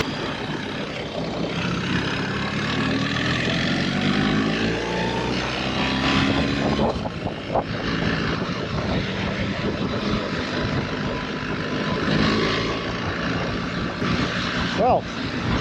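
An automatic BMW 1300 GSA motorcycle engine runs steadily after a restart, a continuous droning hum heard over wind noise with talk over it and a few brief knocks near the end.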